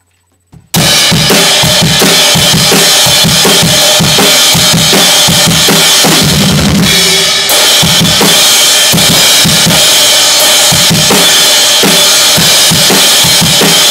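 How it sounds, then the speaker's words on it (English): Drum kit played in a studio, a busy loud groove of kick, snare and cymbals running continuously after a brief quiet start, with a short fill-like change midway. "here's some clips of Nate playing drums"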